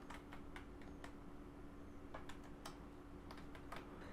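Quick irregular keystrokes on a computer keyboard, close up but fairly quiet, sounding over a steady low background hum with no talking.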